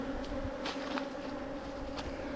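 Honey bees buzzing during a December bee yard inspection, a steady faint hum with a few louder passes as single bees fly close, plus light rustling.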